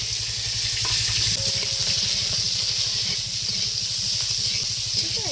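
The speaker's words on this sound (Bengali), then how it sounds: "ফুলকপিটা হালকা পাতলা করে ভেজে নিব। এবার দিয়ে দিব।" Thinly sliced young cauliflower sizzles steadily in a hot wok, a close, continuous frying hiss with faint crackles throughout and no voices.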